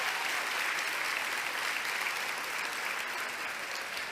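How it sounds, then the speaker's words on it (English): Sustained applause from a luncheon crowd at the 20th annual Women of Hope event, a thick, unbroken rush of many clapping hands at steady loudness with no talk over it. "Let's give him a final round of applause, as well as the committee members for Women of Hope."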